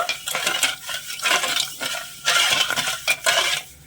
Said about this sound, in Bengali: ভালো করে নেড়ে ছেড়ে চিনিটা একটু গলিয়ে নেব